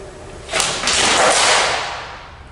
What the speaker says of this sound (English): the signboard on the floor slides forward, as if it is kicked by someone